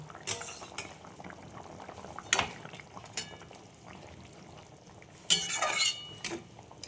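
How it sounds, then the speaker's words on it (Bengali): Tengra fish curry gravy bubbles in a covered pot, a soft boil beneath loud metallic clinks and clatters of the lid and utensils close by. "দেখো ঝোলটা ফুটে গেছে, আমি এবার মাছগুলো দিয়ে দেবো।"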